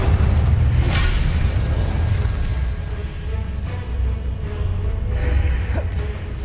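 Fire spell bursts cast in the video game Hogwarts Legacy, a few booming, crackling blasts over a dense rumbling game soundtrack, loud and continuous throughout.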